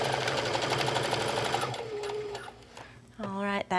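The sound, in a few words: sewing machine back stitching a quarter inch seam on a bag tab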